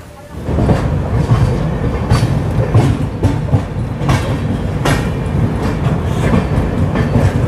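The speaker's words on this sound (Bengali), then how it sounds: "আর ট্রেন ছেড়ে দিল মালদা টাউন স্টেশন" The Sairang Express rolling along the rails after leaving Malda Town station, with rhythmic clickety-clack of wheels over track joints, a steady rumbling carriage noise heard from inside.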